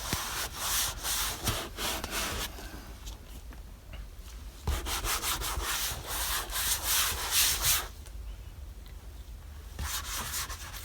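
Cloth rubbing conditioner into a very dry leather seat in a Ford King Ranch truck, a steady scratchy friction in repeated strokes, close and continuous for the whole stretch.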